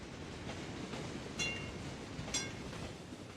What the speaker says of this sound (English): Our trams are coming in.